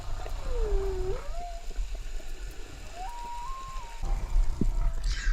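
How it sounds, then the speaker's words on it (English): Whale song recorded underwater off Hawaii: a few long, gliding moaning calls rise and fall in pitch, fairly faint over a murky, bubbly water background, with a short sharp knock near the end. "I could hear whale songs"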